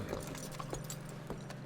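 In Red Dead Redemption 2, horse hooves clip-clop at a walking pace, several distinct hoof strikes spaced unevenly over the quiet game ambience.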